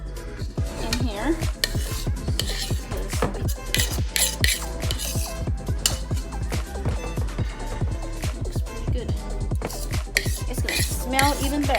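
A spoon scrapes banana bread batter out of a pan in rapid, repeated strokes, with clicks and scrapes of metal on the pan and occasional talk heard underneath.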